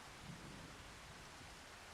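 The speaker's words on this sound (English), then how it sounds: "It is raining, Tom." Steady, faint rain hiss in the farming video game Farming Simulator 25, a continuous broadband wash with no talk over it.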